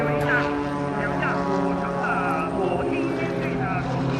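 Propeller aircraft from the Global Stars aerobatic team fly a formation display at the 2019 Sichuan international air show, their engines droning steadily and loudly with shifting pitch throughout.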